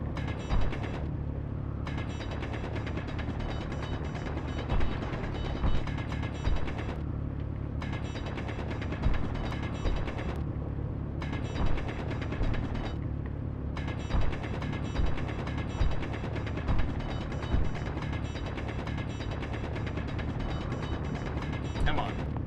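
Continuous grinding and ratcheting of augers drilling into ground in Space Engineers, a steady mechanical drone with regular clicking pulses and brief dips.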